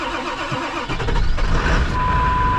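A 7.3 diesel truck engine cold starts after glow plug cycling in the cold: a cranking whir, then a loud rough rumble settling into a steady idle, close up.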